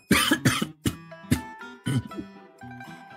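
A man coughs in a series of sharp, loud bursts, several in quick succession, with short pauses and a rough throat-clearing quality, alone with no talk.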